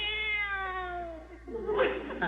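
A cat gives one long, drawn-out meow with a clear, sliding tone. A person then speaks close by.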